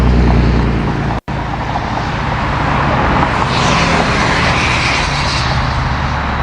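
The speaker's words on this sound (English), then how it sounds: "I'm going to wait for this truck to go by" A truck passes on a road at night, a steady broad engine and tyre roar that swells through the middle and stays loud throughout, with no talk over it.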